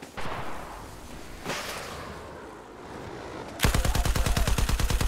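Gunfire in Battlefield 4: after a couple of distant shots and background battle noise, a loud, rapid burst of sustained automatic fire rings out close by for the final seconds.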